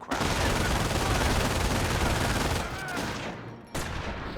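Machine gun fire in the World War II strategy game Company of Heroes, a dense continuous roar of rapid gunfire and battle noise, loud and close, with a brief drop near the end before resuming.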